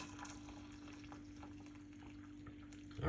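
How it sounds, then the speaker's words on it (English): Hot water is poured onto garlic and cloves as a faint, steady liquid stream, running evenly over a low constant hum for about three seconds. "So what you're gonna do next is pour some hot water on it."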